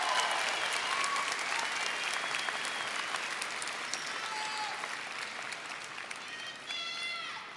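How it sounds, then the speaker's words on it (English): A large crowd of high school graduates at the 2017 Atrisco Heritage Academy graduation ceremony applauds their families, a broad, distant-sounding wash of clapping with scattered cheers and whistles throughout. "Graduates, take a moment to give a round of applause to your families here today."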